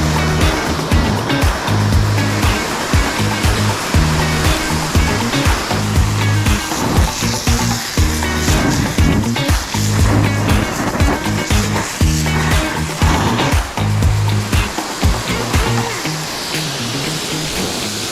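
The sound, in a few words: garden hose spraying water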